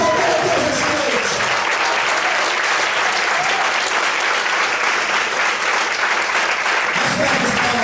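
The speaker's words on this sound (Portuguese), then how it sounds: "Em nome de Jesus, eles podem aplaudir e exaltar a Deus essa noite." Church congregation applauding steadily after a sermon prompt, dense sustained clapping filling the room with crowd voices mixed in throughout.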